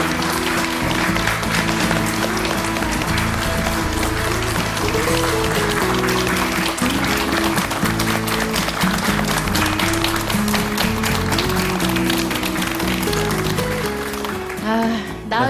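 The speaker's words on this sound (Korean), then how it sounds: "여성 독립운동가 오희옥 지사님 큰 박수로 맞아주시기 바랍니다." A large audience claps steadily to welcome a female independence activist onto the stage, a sustained, even wash of applause under music that fades near the end.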